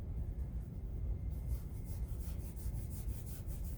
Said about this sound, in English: I'm just rubbing all that slip in, which is helping to seal and conceal all the cracks.